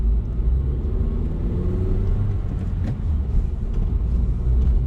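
A manual-transmission car pulls away from a stop on a hill after braking and downshifting to first, its engine rumbling low and steady throughout, with a faint momentary bump midway and no voices.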